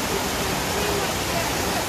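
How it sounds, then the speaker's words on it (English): Continuous broadband rush of a jungle waterfall at Maya Ubud, heard near its base as a steady, dense roar of falling water with no breaks. "this is the bottom of the waterfall there"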